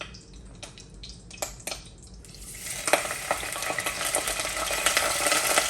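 Butter being stirred in a pot for oyster stew, a soft scraping stir that builds into a steady sizzling, frying hiss with small clicks of the spoon, close and moderately loud, with no talking.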